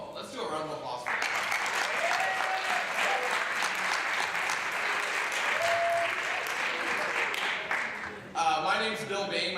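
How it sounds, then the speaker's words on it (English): Audience applause at the 2015 Middleton Film Festival, a sustained burst of clapping from a crowd lasting several seconds before fading as talk resumes. "Let's do a round of applause for that."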